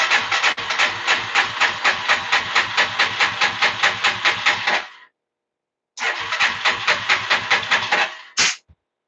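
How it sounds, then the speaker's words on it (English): Yamaha TTR-230 dirt bike engine cranks on its electric starter with the throttle held wide open, two loud bursts of rapid rhythmic chugging separated by a pause, ending with a short whir. "we're going to hold the throttle wide open and hit the start button and see what happens"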